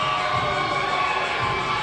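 Audience at a bodybuilding competition finals in Houston, a continuous mass of cheering and crowd noise filling a large venue, steady in level from start to finish.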